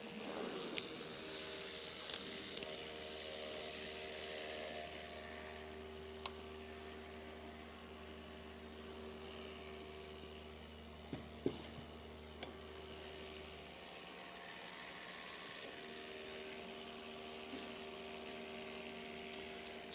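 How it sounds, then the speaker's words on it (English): An electric drill brought from home spins a model of a pencil-shaped ice crystal about a vertical axis, producing a faint, steady motor whine with a low hum that cuts out about two-thirds through, broken by a few small clicks. "so I brought my drill from home."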